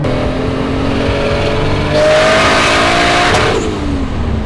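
A modified Toyota JZ-engined Nissan S13 coupe built for drifting revs hard nearby, a loud sustained engine roar with rising and falling pitch and a brief surge in the middle.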